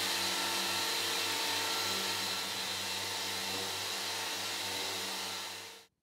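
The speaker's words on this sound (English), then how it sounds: "The epoxy is easy to sand and can be removed quickly with an average orbital disc sander" An orbital disc sander works over cured epoxy on the surfaces of a lounge chair in a woodworking shop, giving a steady, loud whirring drone that holds at a constant pitch and then cuts off abruptly at the end.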